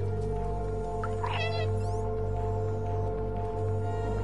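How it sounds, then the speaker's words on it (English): A cat meows once, briefly and clearly, in the video game Stray, over a steady low hum and tonal game ambience. "I woke them up with my meowing"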